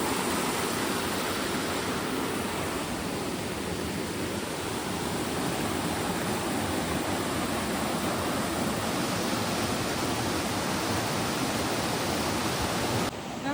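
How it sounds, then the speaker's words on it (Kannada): A steady, powerful roar of a monsoon-swollen river rushing beside a house, filling the whole stretch, dense and unbroken in full flow. "ಇದು ನಮ್ಮ ಮನೆ ಪಕ್ಕ ಇರುವಂಥ ಹೊಳೆ. ಮಳೆಗಾಲದಲ್ಲಿ ಈ ಥರ ಇರುತ್ತೆ."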